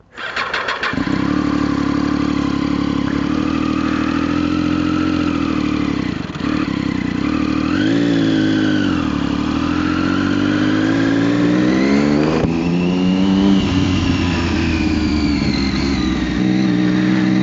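A motorcycle engine fresh from servicing starts with a quick stutter, settles into a loud close idle, then revs and pulls away, its pitch rising and falling through gear changes as it rides off.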